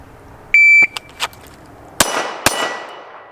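A short electronic beep comes first, then two sharp, loud reports from a Springfield Hellcat Pro pistol at a shooting range, about half a second apart, each ringing briefly.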